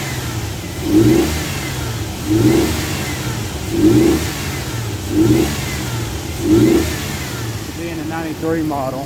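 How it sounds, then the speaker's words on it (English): The V6 engine of a 1993 Ford Explorer 4x4 runs close by and revs in five evenly spaced rises over a steady idle. Someone talks over it near the end. "you can tell that's a healthy V6"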